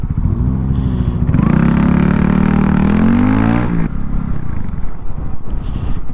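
Honda CB125R motorcycle engine rising and falling as the throttle is released and reapplied without the clutch, with a surging rev in the middle that drops away, up close over steady wind noise.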